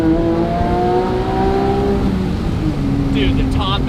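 Tuned Porsche 997.2 GT3 with aftermarket header and intake pulling hard, engine note sweeping upward in a loud continuous rise, with people talking over it near the end.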